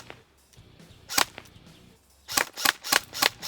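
An LCT AS VAL airsoft replica fires sharp, snappy shots: a couple of isolated shots early, then a rapid run of about six close, loud cracks.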